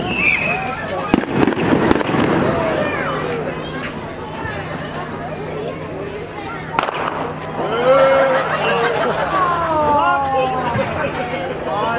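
Fireworks go off at a Santa Day parade in Fenelon Falls, with sharp bangs, crackling bursts and whistling trails rising and falling over several seconds while a crowd murmurs and chatters nearby.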